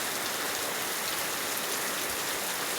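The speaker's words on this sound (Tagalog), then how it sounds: "Ang lakas po talaga ng ulan." Heavy rain falls without a break in a steady, dense hiss of drops striking surfaces nearby, during weeks of nonstop rain.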